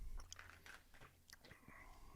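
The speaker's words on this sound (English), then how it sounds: "I'm chewing the fuck out of this gum." Gum is chewed close to a microphone in a podcast setting, with soft wet clicks and smacking bites repeating irregularly, quiet and intimate, with faint breathy murmurs.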